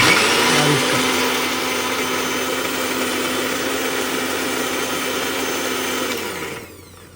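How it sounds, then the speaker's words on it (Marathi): A mixer grinder whirs steadily as it blends tomato and coconut chutney, a loud, even motor drone close by that runs for several seconds and then winds down to silence. "आणि हे एकदा आपण पुन्हा आता मिक्सरमधून फिरवून"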